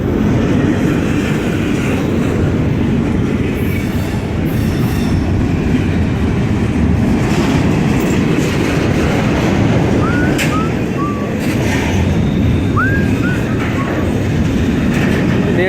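A weed control train rolls past up close, a loud steady rail rumble and clatter of passing cars with a few thin wheel squeals, continuous throughout.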